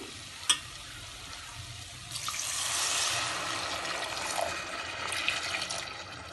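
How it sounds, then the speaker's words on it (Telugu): Water is poured into a hot pan of raw prawn and raw mango curry, bursting into a steady hissing sizzle that swells and then settles into a simmering rush. "ఇలా తగినన్ని నీళ్ళు పోసుకోవాలి"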